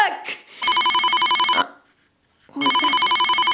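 A mobile phone ringing with a bright electronic ringtone in two loud bursts separated by a short gap, after brief speech at the start.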